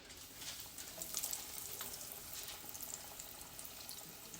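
Mac and cheese balls fry in hot oil with a steady, soft bubbling sizzle, a few brighter crackles and pops rising briefly over the continuous hiss.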